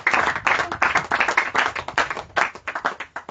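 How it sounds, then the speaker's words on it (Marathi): A church congregation claps together in loud, rhythmic bursts of applause from many hands, keeping a steady beat close by. "एक जोरदार टाळी वाजा प्रभूच्या वचनासाठी"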